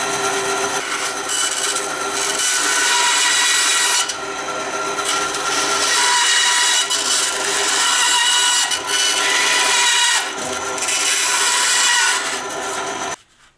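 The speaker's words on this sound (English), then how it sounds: "I'm gonna probably run this through the bandsaw to clean it up." A bandsaw cuts through battery cell holders for a DIY 48-volt pack, producing a loud, steady rasping whir with brief dips in intensity as the stock is pushed through, no voices.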